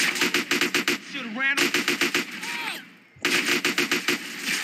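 M4 rifle fire from the video game GTA San Andreas, loud rapid bursts of close gunshots separated by short pauses, with game sound effects filling the gaps.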